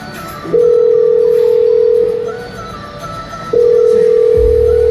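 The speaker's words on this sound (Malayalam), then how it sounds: "ഞാൻ ഫോൺ എടുത്തൊന്ന് വിളിച്ചോട്ടെ." A telephone dial tone sounds loud and close while a call is placed, a steady held tone that fades briefly and then returns at full level.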